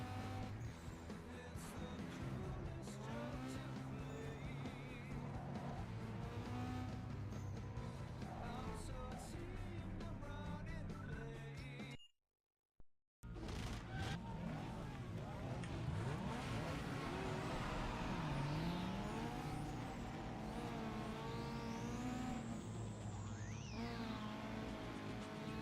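Toyota Supra race car engine in an old racing video game, droning continuously with revving and shifting, tire squeals, and a brief dropout near the middle.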